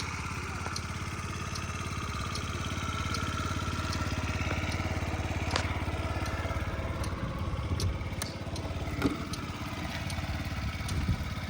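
A 2017 fuel-injected Yamaha Jog SA 55 scooter idles nearby with a steady, even, buzzing small-engine putter and occasional light clicks, no voices over it.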